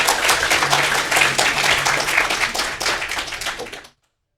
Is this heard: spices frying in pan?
no